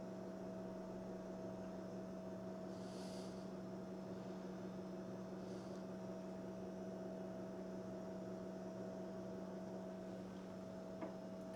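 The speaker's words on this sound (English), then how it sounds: "I think that's the refrigerator making that noise." A refrigerator runs beside a portable power station, giving a steady low electrical hum with a constant tonal drone, faint and unbroken throughout, with a couple of soft clicks.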